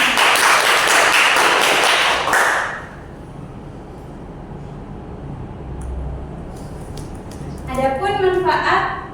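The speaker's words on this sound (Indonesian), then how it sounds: "Sebelumnya kita beri aplaus untuk Mbak Putri." Classroom applause for Mbak Putri during a microteaching practice lesson, a loud burst of clapping for about two seconds that fades out, followed by quieter room noise and a brief voice at the end.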